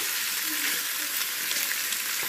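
Oil heats in a pan ahead of cooking Taiwanese-style adobo, giving a steady, moderately loud hissing sizzle throughout.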